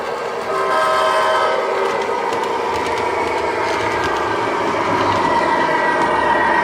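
A model train sound effect plays steadily from an Atlas Genesis locomotive, a sustained horn-like drone with rumbling under it, even and continuous for several seconds.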